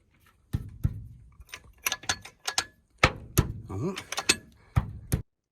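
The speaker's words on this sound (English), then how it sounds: "I've got this guy on the very corner over there, and I'm going to jack it up a little bit." A jack lifts the front corner of a 1989 Ford F250 during leaf spring work, giving sharp, irregular metallic ratcheting clicks and clunks, close and loud, with short pauses between pumps.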